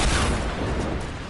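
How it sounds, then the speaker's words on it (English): Rocket explosions in the Fortnite video game rumble as a dense, loud run of blasts with a continuous low boom and no clear gap between hits. "Dude, you're sending rockets."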